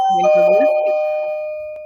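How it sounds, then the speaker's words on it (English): A two-tone doorbell chime rings out clearly indoors, its tones ringing on and slowly fading over about two seconds with no other sound competing. "Doorbell."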